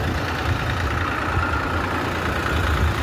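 A tractor engine idles steadily at a farm produce market yard, with a continuous rumbling drone at an even level and no speech.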